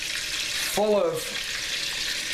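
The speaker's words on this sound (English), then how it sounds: "yummy onions and green pepper. And that's gonna sizzle." Chopped onions and green pepper hit hot grease in a pan while making goulash, giving a steady close sizzle with a brief louder burst as they land, under a few spoken words.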